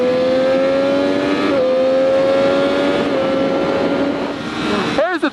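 A 2013 Triumph Daytona 675 R motorcycle accelerates hard at close range, its loud engine note climbing steadily with quick-shifter gear changes cutting in near 1.6, 3 and 4 seconds, before the roar drops away at the end.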